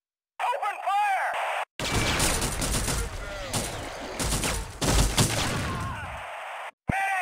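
Dense bursts of automatic gunfire from the Duke Nukem Forever video game, a loud sustained barrage with crashing impacts, cut off abruptly near the end, with voices briefly heard before it starts.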